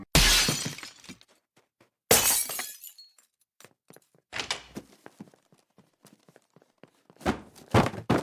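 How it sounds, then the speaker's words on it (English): A house window is smashed in a Family Guy cartoon scene, with several loud, sharp glass crashes and shatters spaced over a few seconds, each followed by tinkling fragments and brief thuds. "the pair break into a house by shattering a window"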